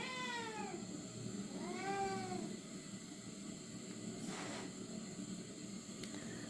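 Two or more cats meow in clear, drawn-out calls spaced a couple of seconds apart over a faint background hiss, fairly quiet with no talking.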